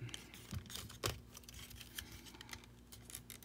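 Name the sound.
folding plastic wing pieces of a Transformers toy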